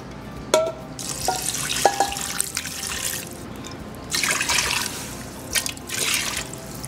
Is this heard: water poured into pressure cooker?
yes